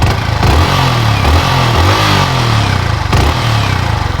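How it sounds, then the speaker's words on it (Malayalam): Yamaha R15 V4 155cc single-cylinder motorcycle engine revving up and down close by, a loud steady mechanical drone with rising and falling pitch throughout. "അത്രയ്ക്ക് സ്മൂത്ത് സ്വീറ്റ് ആയിട്ടുള്ള റിഫൈൻഡ് സിംഗിൾ സിലിണ്ടർ ആ 155cc അടിപൊളി ടോപ്പ് എൻഡ് അടിക്കുന്ന"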